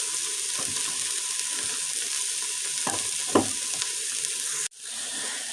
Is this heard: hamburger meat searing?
yes